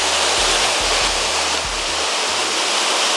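Water pours steadily from a pipe on an organic farm, a loud continuous rushing splash like a small waterfall, with a low rhythmic pulsing underneath throughout.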